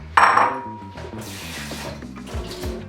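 Dishes and a bowl clatter in a home kitchen while oatmeal is being made, with a sharp ceramic clink at the start and lighter handling knocks that follow, close by and moderately loud over soft background music.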